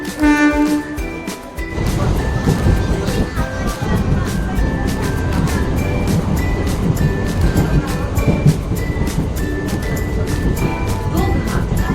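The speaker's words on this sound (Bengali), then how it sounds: "এই যে আমাদের ট্রেন প্ল্যাটফর্মে ঢুকছে" A train rumbles loudly into a station platform with a continuous low roar and some tonal squeals, while voices can be heard nearby.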